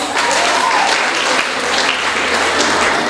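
A crowd claps loudly and continuously at a primary school graduation service, a thick, unbroken wash of applause from a large gathering close by.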